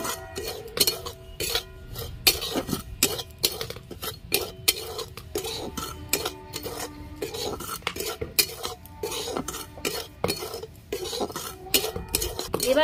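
A metal spoon scrapes and clinks against a hot kadai as semolina is dry-roasted and stirred, making rapid, irregular metallic knocks and scraping strokes, close and fairly loud, with no talk.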